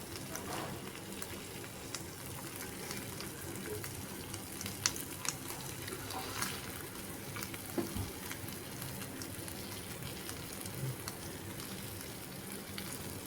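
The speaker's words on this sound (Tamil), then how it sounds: "அதோட ஃப்ரைக்கு ஏற்ற மாதிரி திருப்பி கொஞ்சம் கொஞ்சமாக விட்டால் தான் அது சிம்பிளில் வேகிறது நல்லாவே வேகும்." Dried seer fish (vanjaram karuvadu) fries in a pan with a low, continuous crackling sizzle. Scattered small pops and clicks sound from flipping or stirring, and no one talks.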